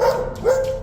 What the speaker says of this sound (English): Hey, don't mess with my dog.